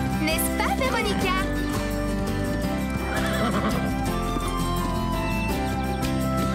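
A cartoon horse whinnies loudly during a show-jumping scene, with high, shaky neighs standing out over a constant music bed and light hoof clatter, while a voice speaks.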